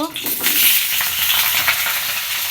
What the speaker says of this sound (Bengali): আলুটা খুব ভালো মতো লাল করে ভেজে নিব